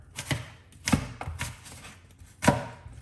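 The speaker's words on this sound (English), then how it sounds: "we're gonna be cutting up 1 medium-sized apple now" Knife chopping through a medium-sized apple on a cutting board, with several sharp, close cuts landing at uneven intervals and one heavier chop near the end.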